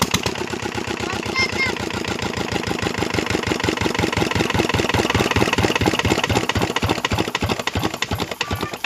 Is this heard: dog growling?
no